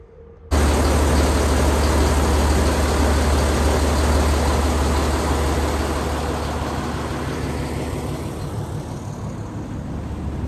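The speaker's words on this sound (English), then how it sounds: "let's see if our engine is gonna start" A small houseboat's engine in Rotterdam kicks into life abruptly after a moment of quiet, then runs steadily with a deep, loud droning rumble and broad noisy roar that eases slightly over time, with no voices.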